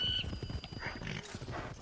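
A horse in Assassin's Creed Brotherhood gives a short whinny, then its hooves clop in a quick, close, steady rhythm.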